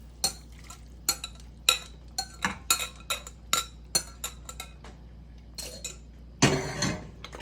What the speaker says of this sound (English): Take a spatula, you spin it around.